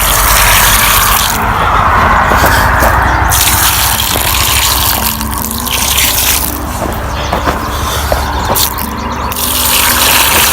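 Steady loud gush of water splashing over newly planted garden plants in raised beds, continuous for about ten seconds with slight surges and dips.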